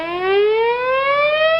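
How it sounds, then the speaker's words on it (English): A wailing siren sound effect played on a radio show rises steadily in pitch, loud and alone with no talk over it. "Put the siren on."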